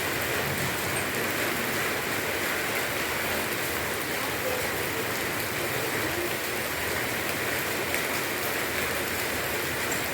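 A cool summer rain falls steadily outdoors, an even, continuous hiss of drops on surfaces that stays constant and fairly close throughout, with no pauses.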